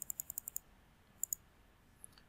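Computer mouse clicking during a JavaScript coding session: a quick run of six sharp clicks, a pause, then two more and a final faint click, close and crisp over a quiet room hiss.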